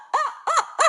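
A person imitates a barred owl call with three short, loud hooting bursts in quick succession, each rising and falling in pitch.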